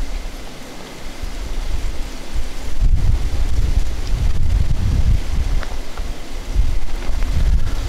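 Gusting wind swirls across an open field at the woods' edge during a rut-season deer hunt, a steady roar of microphone buffeting that swells into stronger low rumbling gusts partway through, with no talking.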